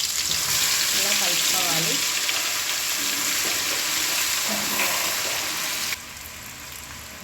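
Two spoons of ginger garlic paste fry in hot oil for a chicken pickle, giving a steady, close sizzle and hiss that runs throughout, turning a little quieter near the end while someone talks over it.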